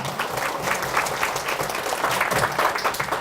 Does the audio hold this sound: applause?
yes